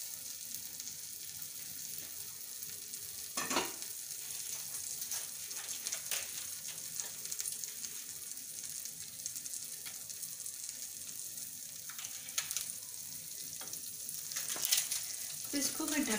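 Bread pizza sizzling in melted butter in a pan, a soft, steady frying hiss with occasional louder crackles and pops, heard close and quiet throughout.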